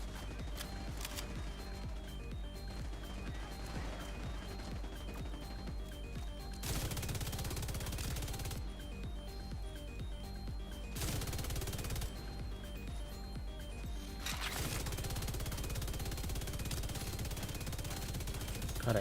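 Gunfire in The Division 2, long sustained bursts of rapid automatic fire in several runs separated by short pauses, loud and close, with a few distant shots between bursts.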